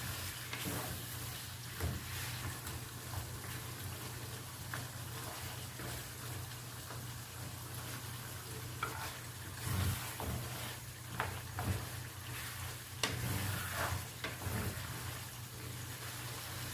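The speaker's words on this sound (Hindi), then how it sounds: "अब हम इसमें शामिल करेंगे दही।" Shinwari mutton karahi sizzles in the pan after yogurt is added, a steady close frying hiss with occasional stirring scrapes and a low background hum.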